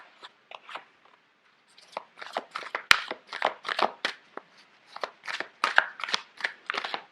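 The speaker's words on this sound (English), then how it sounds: "Sorry, these cards are quite big. It's hard to shuffle." Large oversized tarot cards are shuffled by hand in a string of crisp riffling and slapping bursts, with a short pause before a steady run of papery flutters, close and moderately loud, no talk.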